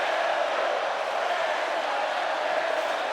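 Arena crowd cheering in the WWE 2K25 wrestling game, a continuous broad wash of voices that stays level and unbroken throughout, with no one speaking over it.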